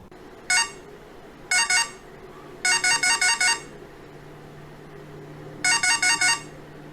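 A radar detector sounds its X-band alert in short bursts of rapid, high electronic beeps: one burst, a pair, a run of five, then four more. The bursts are loud and close over a faint steady hum.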